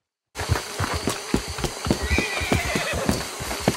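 Horse in the Red Dead Redemption video game, a clear neigh over quick rhythmic clip-clop hoofbeats that start abruptly after a moment of silence and carry on steadily, close and loud.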